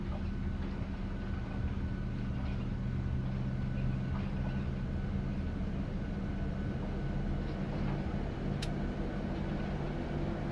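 PMDG Boeing 737 engine starting in Microsoft Flight Simulator 2024: a dense, steady low roar and rumble that holds constant throughout, with a faint whine above it and no distinct voices.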